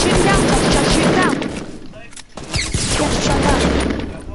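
Dense, continuous video-game gunfire from a squad battle royale match, a loud rattling barrage that dips briefly in the middle before resuming, with faint voices underneath.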